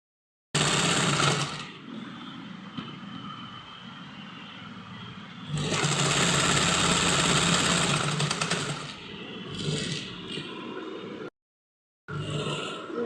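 A sewing machine runs in bursts, stitching a seam on a kurti with a half-inch allowance, its motor whirring loud and close, easing slower mid-run, then stopping briefly before starting again.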